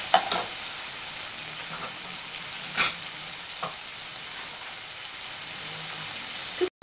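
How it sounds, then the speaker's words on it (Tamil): Tomatoes sizzle steadily in a hot frying pan, a continuous hiss broken by a few soft scrapes of stirring. "உள்ளே சேர்த்துட்டு வதக்கி விட்டுலாம்."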